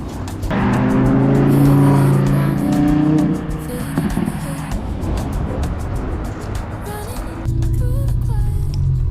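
A BMW E30 drives along a flat road, its engine a steady low drone with clear harmonic tones that swell loudly for the first few seconds, ease back, then rise again near the end, with no voices.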